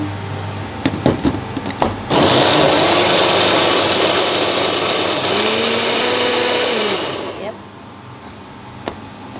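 A kitchen blender grinds chili peppers for homemade sriracha sauce, a loud steady whirring roar of about five seconds that cuts off abruptly, preceded and followed by a few handling clicks.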